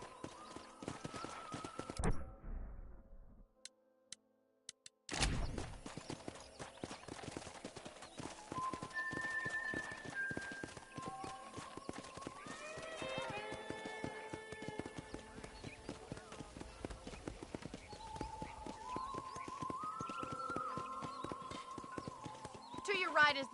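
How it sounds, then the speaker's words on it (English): Horse hooves clip-clopping steadily on the ground in the Red Dead Redemption video game, a rhythmic trotting beat that runs for most of the stretch after a brief pause, with a whinny and game music underneath and a voice talking over it. "let's see if you can still ride a horse"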